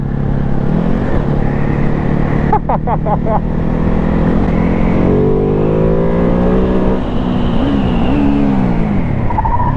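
A Ducati Hypermotard 950 RVE slides in on arrival, its engine loud and near with shifting revs and a short burst of rapid pops, wind noise throughout.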